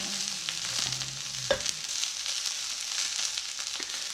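Maple chicken and Brussels sprouts sizzle steadily in an uncovered pan, a continuous close frying hiss with a brief clink of a utensil midway and no talking.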